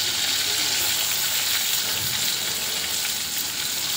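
Stuffed pointed gourd pieces frying in hot oil, a dense steady sizzle that stays loud and close throughout with no talking.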